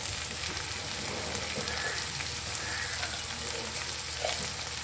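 Steady sizzling of spices with chili powder frying in a pan, with a spoon stirring and scraping throughout; close and continuous, no voices.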